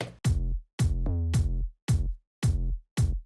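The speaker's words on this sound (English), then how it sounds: "I sidechain the kick and the bass together so they don't clash," Punchy electronic kick drums hit with deep sustained 808 bass notes in a moombahton beat, in short separated bursts with gaps between, each bass tone sidechain-ducking around the kick.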